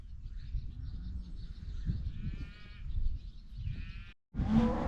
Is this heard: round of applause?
no